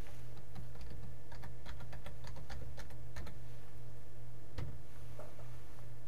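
Steady computer keyboard typing while account details are entered during a desktop-to-online library sync setup, with quick irregular key clicks that fall off partway through and a few isolated taps near the end over a faint hum.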